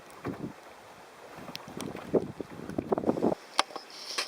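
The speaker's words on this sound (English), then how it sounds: "Rain is now whipping into my face and the boat." Gusty wind of around 40 km/h buffets the microphone while rain and spray spatter in irregular bursts across a fishing boat, loud and close, with no voices.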